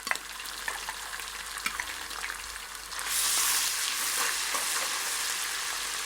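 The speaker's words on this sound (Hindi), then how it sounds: "अदरक लहसुन अभी थोड़ा सा हुआ है फ्राई" Steady sizzling and crackling of ginger-garlic paste frying in hot oil, with green chili paste added, growing slightly louder and denser partway through, with faint stirring clicks.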